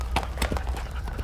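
A tame horse under a rider clip-clops in quick, uneven hoofbeats on hard ground, close and fairly loud across about a second, with no talk.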